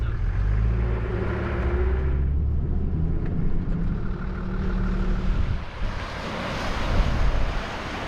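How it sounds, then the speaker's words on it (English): Steady wind blows across a choppy stretch of the Ningaloo Coast, a loud, constant roar of gusts and broken surf with low rumbling, no voices, continuous throughout. "Choppy today with all this wind we've been having."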